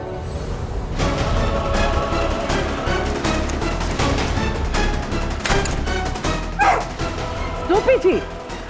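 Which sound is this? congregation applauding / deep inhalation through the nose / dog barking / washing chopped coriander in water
dog barking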